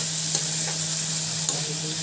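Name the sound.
boiled potatoes stirred and frying in a pan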